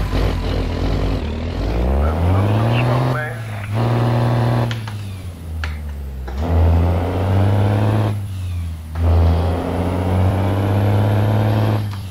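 Heavy diesel rumble of a Cummins N14 truck engine in American Truck Simulator, revving up and settling repeatedly in long surges, loud and close, with faint voices over the top.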